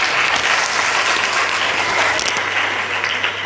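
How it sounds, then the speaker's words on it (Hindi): Indoor audience applauding at a live Hindi talk: dense, sustained clapping from a large crowd, even and continuous for several seconds with no break. "आपके खुद के लिए ताली बजा लीजिए"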